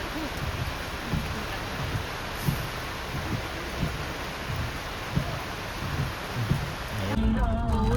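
Heavy rain pours down during a cyclone, a dense, steady wash of noise with scattered louder drops and thumps throughout.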